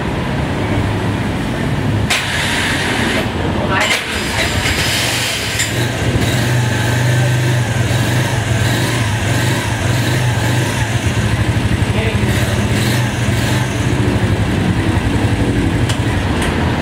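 A restored Piaggio Liberty Gen 1 scooter engine runs steadily after starting, giving a loud, close, continuous mechanical drone that holds throughout without a break.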